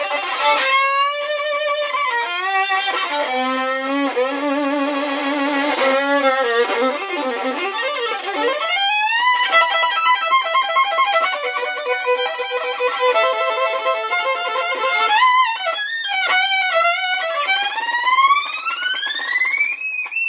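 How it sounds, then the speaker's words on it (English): Violin played in a screaming electric-guitar style, with wide slides, bends and sweeping glissandi climbing and falling, loud and continuous, alone without talk. "sometimes I like to pretend that I'm playing an electric guitar"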